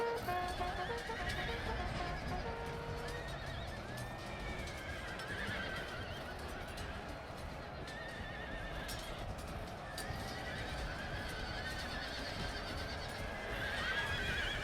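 Cavalry horses neigh and whinny over a steady clatter of galloping hooves in a battle in the video game Empire: Total War with Polish-Lithuanian lancers and regiments of horse; the dense, continuous din holds throughout with several overlapping calls.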